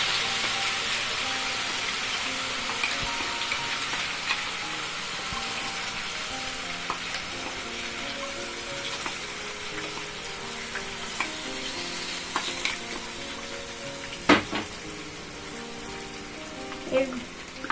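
Onion, ginger, garlic and chili paste frying in a pan for a Bengali fish korma, a steady close sizzle with scattered pops and crackles and a few sharper scraping stirs near the end, no voices.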